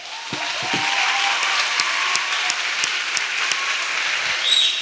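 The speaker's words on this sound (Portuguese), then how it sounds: "Se vai aplaudir, aplauda bem forte." A church congregation at a youth retreat applauds loudly, with dense, steady clapping filling the whole stretch and a faint voice rising briefly near the start.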